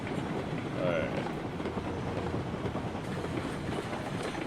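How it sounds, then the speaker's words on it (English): Steam train rolling along in the RailRoads Online game, with a steady, dense running rumble and rail noise throughout while a voice speaks over it. "This train is moving around quite a bit."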